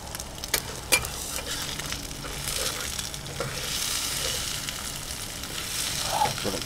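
Yakisoba noodles fry on a camp stove on a cold, windy spring campsite, giving a steady broad sizzle with a few sharp clicks and scrapes of stirring near the start, close and continuous throughout.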